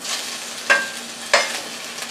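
Hash browns fry in a pan after flipping, a steady close sizzle with two sharp spatula scrapes or taps, no one speaking.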